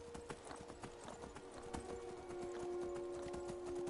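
Horse hooves clip-clopping at a steady trot in Skyrim, close and clear over a constant game ambience with a low humming drone.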